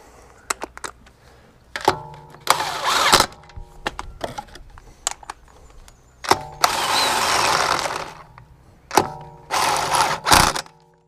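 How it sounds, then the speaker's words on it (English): Torque wrench tightening wheel nuts on a road car's new wheels, giving bursts of metallic ratcheting and clicking in several separate spells, with clunks and knocks between them, close by. "So I'm using a torque wrench,"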